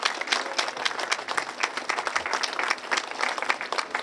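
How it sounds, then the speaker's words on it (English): An audience at a high school building's topping off ceremony gives a big round of applause, with brisk, dense clapping from a crowd sustained at an even level throughout. "Let's give them all a big round of applause."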